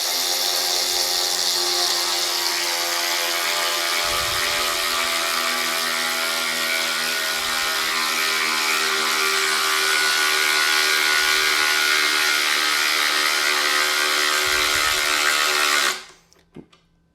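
Hercules cordless ratchet running continuously at speed, a steady whirring motor whine with a few low knocks, cutting off abruptly near the end.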